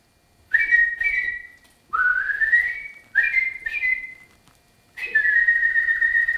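A person whistles an imitation of a blackbird's song, four bright warbling phrases with short pauses between them, rising and sliding, close and clear with no talk.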